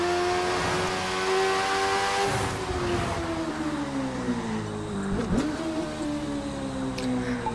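Kawasaki Z1000 motorcycle engine in the racing game The Crew 2, holding a steady mid-rev drone with gentle pitch swells and dips as the bike cruises, loud and continuous with no talk.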